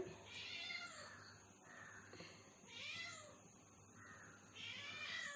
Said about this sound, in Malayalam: ഞങ്ങൾക്ക് ഇവിടെ ഒരു പൂച്ചയുണ്ട് അവളായി കരഞ്ഞുകൊണ്ടിരിക്കുന്നത്